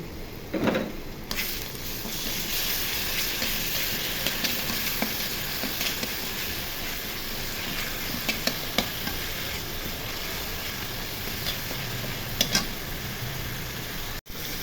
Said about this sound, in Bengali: আদা রসুন বাটা দিয়ে ভেজে নিব কিছুক্ষণ